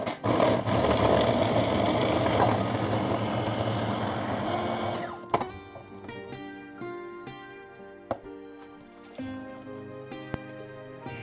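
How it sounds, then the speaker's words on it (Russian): A blender chopping cake-layer scraps whirs loudly and steadily for about five seconds, then stops abruptly, leaving scattered clinks and light knocks. "Обрезки от коржей измельчаем блендером."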